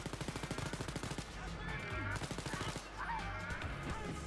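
Rapid bursts of gunfire from a weapon in the video game Wolfenstein: Youngblood, played in co-op, with repeated sharp shots in quick rhythmic runs over a dense, loud game-audio background.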